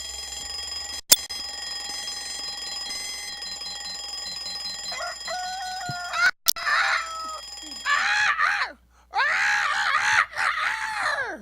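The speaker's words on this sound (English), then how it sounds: "Oh, that's a sick rooster." A rooster crows outdoors on an Atlanta morning, several loud, strained calls that rise and fall, with a harsh ragged quality, following a long electronic tone and sharp clicks.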